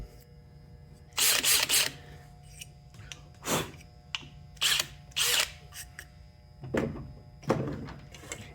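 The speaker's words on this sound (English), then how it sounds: "I gotta drill my pilot hole there." A power drill bores a pilot hole in sheet metal for a drawer front, sounding as several short, loud, whining bursts separated by brief pauses, close by, with no talking.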